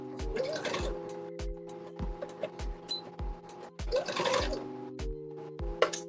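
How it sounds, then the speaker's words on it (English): A sewing machine hems a garment sleeve in short bursts of whirring stitching, two longer runs separated by sparse clicks and taps, fairly quiet and close with no talking. "I'm going to hem up my sleeve."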